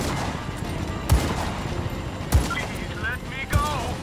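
Three sharp gunshot blasts from Just Cause 3, evenly spaced about a second apart, fired at a target over continuous game background noise.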